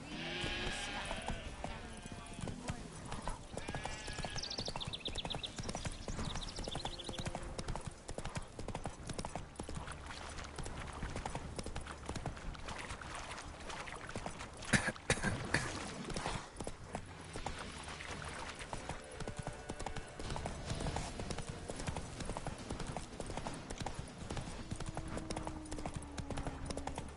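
Roach, the horse in The Witcher 3, gallops on at a steady pace, hoofbeats clear and near beneath layered game music and ambient sounds, with a brief louder bump midway.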